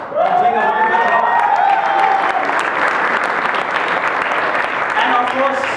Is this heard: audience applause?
yes